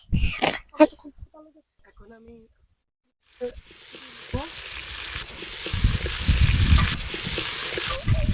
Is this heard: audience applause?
no